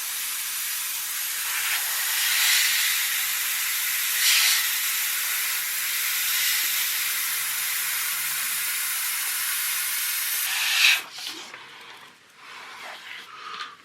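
Airbrush spraying blue grey paint mixed with flow improver for a picture frame diorama: a close, steady airy hiss that swells slightly in short pulses, then cuts off near the end, leaving faint handling noises.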